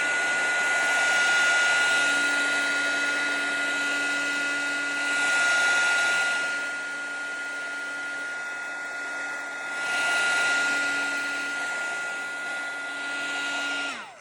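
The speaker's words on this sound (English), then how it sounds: "Let me heat tool it just a little bit more." A heat tool blows on a craft page, giving a steady whirring hiss with a constant whine that swells and eases in waves, then cuts off abruptly at the end.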